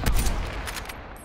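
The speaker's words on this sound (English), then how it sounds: "where are these shots coming from?" A short burst of rapid gunfire rings out in the video game Call of Duty: Black Ops Cold War, loud and dense for a moment before fading.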